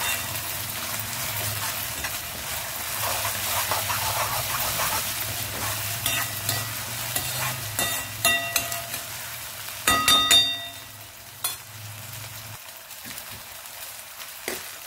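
Onion, ginger and garlic fry in a pan, a steady close sizzle with occasional stirring scrapes and clinks, louder spatters near the end before the sizzle briefly drops away.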